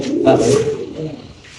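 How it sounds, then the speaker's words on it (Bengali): Fancy pigeons coo at a pigeon farm, soft throaty calls rising and falling close by while someone talks over them. "এনে আছে একদম মুরাসল কবুতর।"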